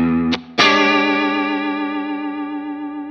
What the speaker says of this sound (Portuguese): a segunda guitarra, ela vem justamente com aquele efeito que eu te falei de modulação rápida